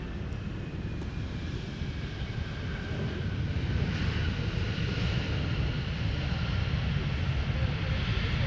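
A United airliner takes off from runway 17 at Minneapolis–Saint Paul airport, its engines giving a sustained low roar that swells slightly as it climbs away, heard from a distance with steady wind noise and no speech.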